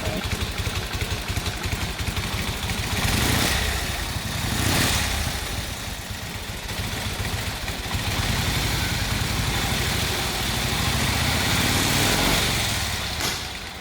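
An old vintage motorcycle at a motorcycle museum in North Carolina runs with a steady, rapid chugging beat. Louder surges come as it passes near, and the sound carries on alone with no talk.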